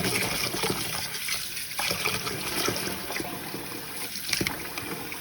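Soaking water is poured off sticky rice while rinsing it, a continuous close splashing and trickling stream that runs steadily for several seconds at moderate loudness, with no talking.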